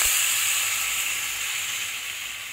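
Water poured over hilsa fish in a hot pan sends up a loud, steady steam hiss that fades slowly over a couple of seconds, with no voices.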